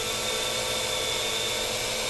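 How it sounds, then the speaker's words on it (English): An AR Drone quadcopter hovers nearby, a steady, high-pitched mechanical whine with a buzzing motor drone, constant and fairly close. "That's the sound of the AR drone"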